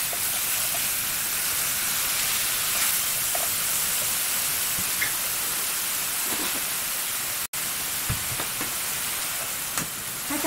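Bacon and leftover cold rice stir-fried quickly in a pan for a mushroom cream risotto, giving a steady, close, loud sizzling hiss that runs without a break, with a few faint clinks of a utensil.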